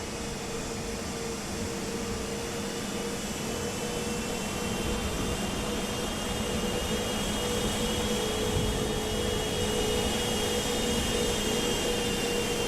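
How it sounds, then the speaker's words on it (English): Boeing 747 jet engines in Microsoft Flight Simulator rumble and whine behind the aircraft at Denver airport, a loud steady roar with tonal hums that swells slightly over time, with no voices. "the 747 is really loud back behind us"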